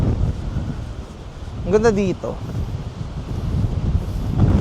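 Strong gusty wind buffets the microphone at a seaside spot in Haeundae, Busan, a steady low rumble throughout, with someone speaking briefly in the middle.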